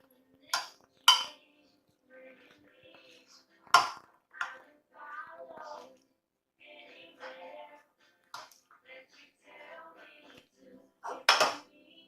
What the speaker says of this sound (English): Mix this up with my tongs.